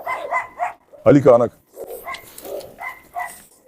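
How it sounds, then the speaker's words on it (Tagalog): Dogs at an outdoor chicken feeding for a large pack give a loud burst of close barking in the middle, while someone speaks in Filipino before and after. "palaging may mga aso na gumugulo dito eh"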